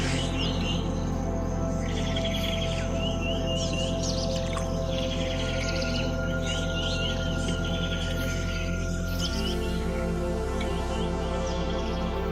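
Birds chirp and call repeatedly across a wetland, with varied, fairly faint calls layered over a steady insect-like drone and low hum throughout.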